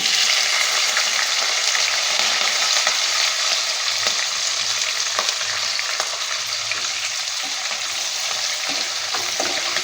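Sliced onion and green chillies fry with tempering spices in oil for an ivy gourd stir-fry, giving a steady, dense sizzle with light stirring scrapes throughout and no voices.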